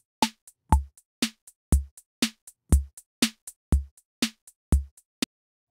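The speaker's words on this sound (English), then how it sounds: "I'm starting with this beat here from a 606 kit" Vintage 606 drum machine beat plays alone in a tight, even loop: crisp snappy hits and short ticks alternate with deep booming kick thumps, evenly spaced, close and clean.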